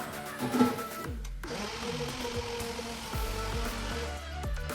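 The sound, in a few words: food processor blending banana for pancake batter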